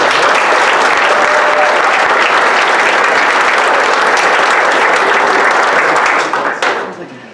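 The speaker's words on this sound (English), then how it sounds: "So once again, a round of applause for our lower level." Loud, continuous applause fills the room at a high school boys soccer banquet, many hands clapping together for the lower level JV and C teams, holding steady before fading out in the final second.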